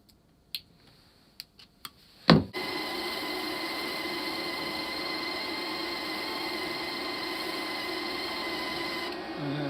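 A flux core welding machine switches on after a few clicks and taps, then a steady motor whine and hum runs continuously as wire feeds through the cable, fairly quiet and close, with a slight change near the end.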